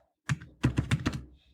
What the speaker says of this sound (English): I'm typing right now, so you might hear that.